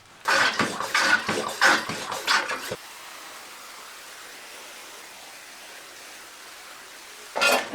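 Water sprayed in bursts onto a clay wall in a small underground room, a close hissing spray for a few seconds, then a quieter steady wash, with another short spray at the end.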